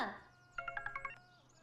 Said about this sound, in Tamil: ஃபோன். அட்டெண்ட் பண்ணுங்க.